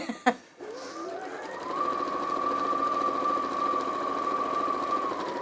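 A domestic sewing machine stitches a long dart in fabric, with a short clatter as it starts and then a steady, close, high-pitched whirring hum that holds evenly for several seconds.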